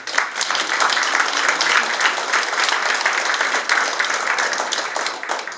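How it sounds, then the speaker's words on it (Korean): A seated audience at a city mayor's New Year district visit gives a hearty round of applause for council members: steady, dense clapping that holds at full strength for several seconds, with no voices over it. "다시 한번 힘찬 박수 부탁드립니다."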